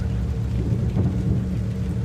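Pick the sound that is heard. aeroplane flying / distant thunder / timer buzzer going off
distant thunder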